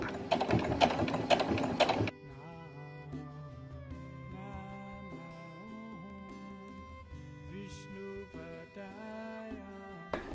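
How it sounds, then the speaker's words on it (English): A domestic sewing machine top-stitches the channeling on a bra, with a couple of seconds of rapid, loud mechanical whirring followed by quieter, steadier tonal sounds. "we've top stitched around here, top stitched the channeling round there"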